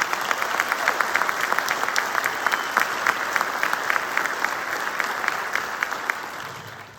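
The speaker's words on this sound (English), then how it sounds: "can we have one more round of applause for our two employees?" Applause at the DCS Awards Ceremony 2023 for two employees: a steady, dense crowd clapping that runs loud and unbroken for about seven seconds with no voices over it.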